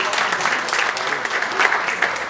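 Audience applause at a 35th anniversary seminar at the Garden Court Hotel in Kitwe, Zambia, following a performance by a cultural ensemble: dense, steady clapping from a crowd that holds at an even level and never drops off.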